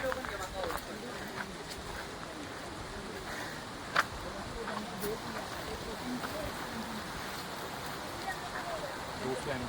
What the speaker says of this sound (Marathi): हे बघा धबधबा बघा.